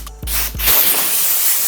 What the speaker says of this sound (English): Let's go ahead and spray it on my boy.